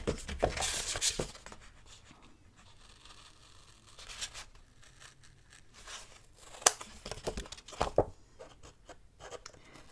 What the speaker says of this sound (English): I don't usually use these scissors to trim through tape